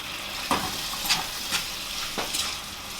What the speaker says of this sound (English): Add the beans back into the pan.